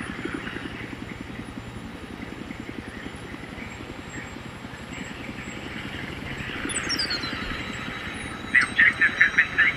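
A scout helicopter in a video game gives off a steady rotor chop throughout, with a rising whine near the end and a brief burst of rapid gunfire-like pops at close range.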